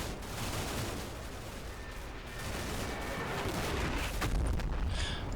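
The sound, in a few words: ammunition cook-off explosions in video game Combat Mission Shock Force 2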